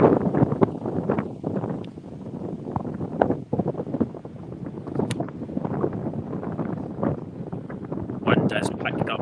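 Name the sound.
strong wind blowing on golf course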